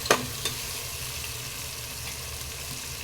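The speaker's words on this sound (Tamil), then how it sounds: "இப்போ கொஞ்சம் புதினா ஆட் பண்ணிக்கலாங்க. எல்லாத்தையும் நல்லா வதக்கிடலாம்." Mint and biryani masala sauté in a pan with a steady low hiss of frying. A couple of sharp utensil clicks come near the start, and no voices are heard.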